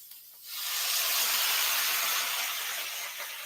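Water hits a hot pan of charred Brussels sprouts and sets off a loud, sustained sizzling hiss that jumps up suddenly and holds steady for several seconds, with no talking.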